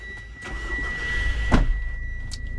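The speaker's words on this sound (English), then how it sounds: "I'll just start her up." A 2.4-litre Mitsubishi Shogun Sport Commercial automatic cranks and fires up nearby, a brief starter burst settling into a steady idle hum with a faint electrical whine.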